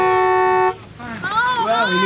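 A car horn gives one sustained honk, then cuts off as several people start greeting one another with excited overlapping voices.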